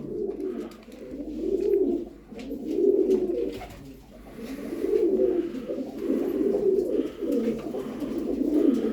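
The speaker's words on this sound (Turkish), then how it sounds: "Kuşlarımız bu." A flock of tumbler pigeons cooing close by, with soft, throaty, rolling calls overlapping in continuous waves, alone without speech.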